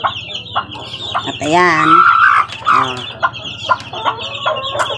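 Young Maclean chicks cluck and peep in a rapid, uneven series close by, while someone speaks over them.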